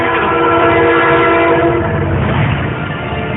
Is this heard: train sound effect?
yes